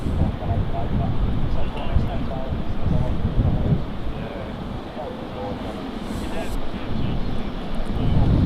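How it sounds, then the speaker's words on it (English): An EasyJet Airbus A320neo airliner at Manchester Airport gives a broad, steady engine roar with wind rumble, fairly loud and sustained, with voices talking faintly underneath. "EasyJet A320 Neo."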